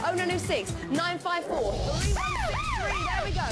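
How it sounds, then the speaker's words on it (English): A siren sound effect used during a speed auction, rising and falling in repeated sweeping wails after a stretch of talk; a voice speaks over the start of the clip. "That's the siren again."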